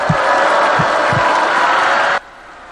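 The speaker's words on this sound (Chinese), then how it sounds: "掌声鼓励一下，这时候" Dense, steady audience applause and crowd noise at Jay Chou's magic show, loud and close, with a few low thumps, stopping abruptly after about two seconds.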